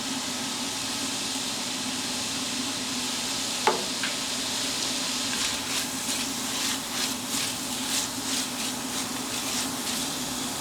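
Onions cooking in rendered smoked brisket fat, a steady soft sizzle throughout, with a single sharp clink near the start and light stirring scrapes and crackles in the latter half.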